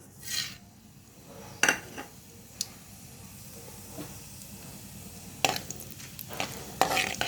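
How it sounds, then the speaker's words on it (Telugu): Tempering spices hit hot oil in a pan for a potato fry, giving a steady close sizzle with occasional sharp clinks and scrapes of stirring. "మనం పోపు దినుసులు వేసుకుందాం"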